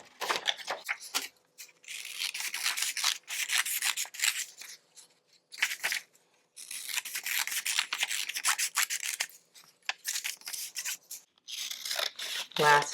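Scissors snip through paper strips for a preschool cutting activity, in close, repeated bursts of crisp cutting strokes separated by short pauses.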